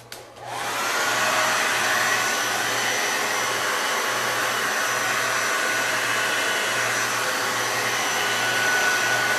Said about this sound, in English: So I'm just going to use my hair dryer